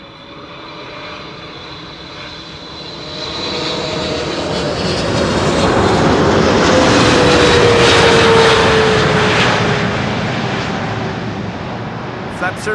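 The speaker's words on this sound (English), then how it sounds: "This is KLM flight 682 arriving from Vancouver, Canada. 8 hours 52 minutes on the way. 777-300" A KLM Boeing 777-300 lands at Schiphol on runway 06 after a long flight from Vancouver, its engine roar swelling to a loud peak near the middle with a descending whine, then easing off slowly.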